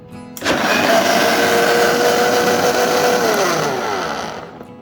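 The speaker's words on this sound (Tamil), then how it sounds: "நம்ம இப்போ இந்த போஷ் மிக்ஸி வச்சு தான் யூஸ் பண்ணுறோம்." A Bosch mixer grinder blends apple juice with milk, starting abruptly and then running as a loud, steady motor whir that eases off near the end.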